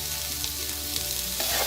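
Onions sauteing in a hot pan, a steady close sizzle and hiss lasting under two seconds.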